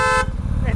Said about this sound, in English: Yours is a loud horn.